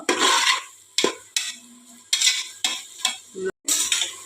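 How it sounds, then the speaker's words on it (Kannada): Onions frying in a pan, with repeated bursts of stirring and scraping over a steady sizzle, broken by short pauses, close and fairly loud. "ಸ್ವಲ್ಪ ಫ್ರೈ ಆಗಲಿ, ಸ್ವಲ್ಪ ಚೆಂದ ನೀರುಳ್ಳಿ ಮಿಕ್ಸ್ ಆಗಬೇಕು ಫ್ರೆಂಡ್ಸ್"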